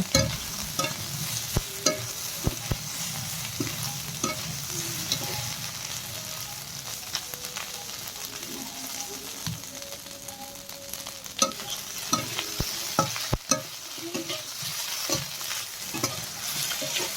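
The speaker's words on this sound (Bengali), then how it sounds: "ঢেলে দেওয়ার পর এটা আমি অনেকক্ষণ নাড়াচাড়া করতে থাকবো" Potato fry with the skins left on is stirred with spice paste in a pan, a soft ongoing sizzle broken by frequent scraping and clinking strokes of the spatula, close and fairly quiet.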